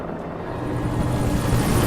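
Helicopter in the video game Alan Wake, a steady broadband rotor and engine rumble that slowly grows slightly louder over two seconds, with no talking.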